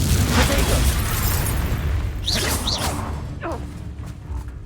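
A fiery Confringo spell blast in Hogwarts Legacy lets out a booming whoosh at the start, then fades into rumbling, with a few sharp swishing magical sounds following in the middle.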